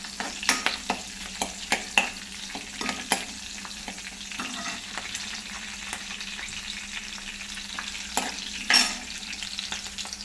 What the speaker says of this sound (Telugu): అందులో మిర్చి వేసి అవి కొంచెం వేగాక